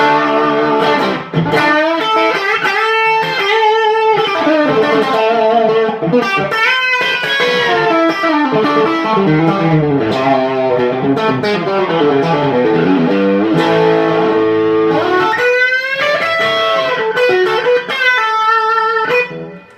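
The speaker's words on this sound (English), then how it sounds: "Moving on to the Wampler Paisley Drive." An electric guitar played through a Wampler Paisley Drive overdrive pedal rings out with gritty, saturated chords and lead lines, loud and continuous for about twenty seconds, with no talking.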